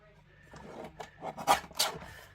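Craft paper being trimmed, a few close, soft rasping cuts that grow louder toward the end of the short clip.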